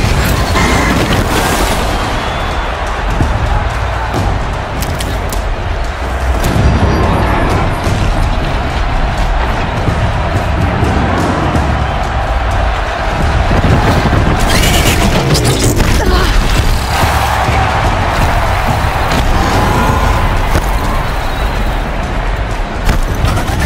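A massive Behemoth machine in Horizon Zero Dawn charging into pillars in an enclosed room, producing a long, loud, dense roar of booming crashes, heavy impacts and mechanical clanking that never lets up.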